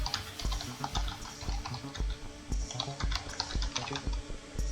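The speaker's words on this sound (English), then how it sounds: "if I type a message like this" Typing on a computer keyboard: a close, quick string of light plastic key clicks and taps with a few louder strikes, steady and alone without talk.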